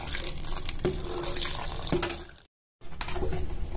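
Milk poured into a pot for rice kheer (mutanjan), a steady close-up splashing stream that runs continuously, breaks off briefly into silence, then resumes.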